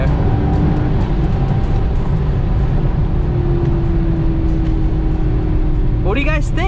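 A Maserati's engine runs as a continuous low rumble and hum from inside the moving car, loud and steady throughout, with a voice coming in near the end.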